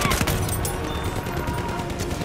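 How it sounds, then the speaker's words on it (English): Rapid gunfire in the Battlefield 1 video game, a dense crackling burst of shots up front that settles into a continuous loud rumble of battle noise. "sniper just shot at me"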